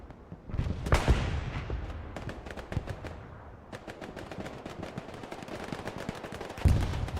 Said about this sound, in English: Oh, Delaney misses all of his shots.